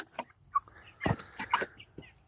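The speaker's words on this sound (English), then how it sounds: "I think the chickens are at the door" Chickens cluck in short, scattered calls at a coop door on a farm, a few soft, close bursts over a quiet, still background.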